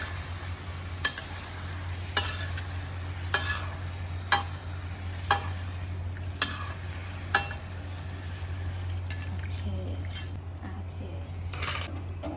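Wontons fry in oil that has darkened after two batches, giving a constant low sizzle broken by sharp, regularly spaced clicks and taps from stirring.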